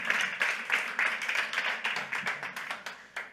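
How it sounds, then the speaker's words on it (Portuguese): Church congregation applauding the Lord during a service, a dense burst of many hands clapping at once, with fairly steady peaks in a hall and no talking over it. "Dê um aplauso ao Senhor"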